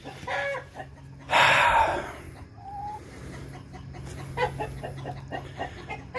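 Backyard chickens cackle and cluck in a frantic burst, with one loud squawk near the start, followed by scattered clucks and calls at moderate distance.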